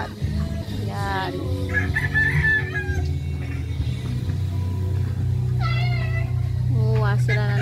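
Nearby chickens cluck and a rooster crows in drawn-out calls on a sweet potato farm, with a cat-like meowing cry and a steady low hum underneath, plus people talking.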